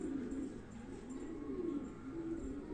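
Damascene pigeons coo in a low, steady, repeated murmur close by, several soft rolling calls overlapping through the whole stretch with no talk.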